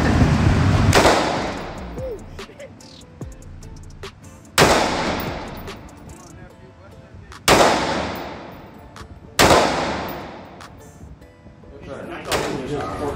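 Rostic Arms firearm fired at an outdoor demo day range: four loud, sharp gunshots spaced a couple of seconds apart, each with a ringing decay, with people talking in between.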